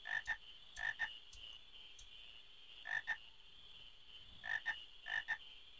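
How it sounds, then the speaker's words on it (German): Frogs croaking in the Final Fantasy IX video game: repeated paired, throaty croaks in irregular clusters over a steady ambient hum, moderately loud and with no voices. "Hey, Quina, vergiss die Frösche."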